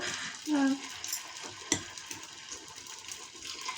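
Paddu batter sizzling in a hot pan, a soft steady crackle with a brief scrape and a light tap, close by and fairly quiet, with no talking.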